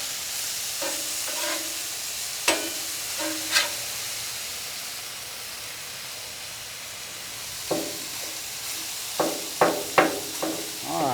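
Food sizzles steadily on a Blackstone flat-top griddle, a constant frying hiss broken by several sharp metal spatula scrapes and taps, with no one talking.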